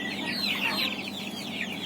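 Meat chickens on a Saraburi poultry farm cluck and chirp in a busy chorus nearby, many birds calling over one another in quick, high notes.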